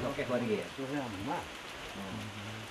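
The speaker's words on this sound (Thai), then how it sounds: "ขณะที่ฝนเริ่มโปรยปลายพร้อมกับเก็บผลไม้ได้จำนวนหนึ่ง" Steady rain falling at a house beside a fruit orchard in Yala, Thailand, a continuous soft hiss under nearby voices talking.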